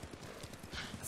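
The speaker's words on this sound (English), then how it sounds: "riding this horse right now?" Horse hooves clip-clop in the Ghost of Tsushima video game, a quick steady trotting rhythm heard over soft ambient game sound.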